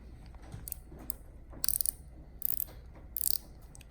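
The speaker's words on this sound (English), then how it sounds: "Now we got a little drag noise" Drag on a 13 Fishing Concept C baitcasting reel clicking in short rapid ratcheting bursts, four or five quick runs close up with brief pauses between.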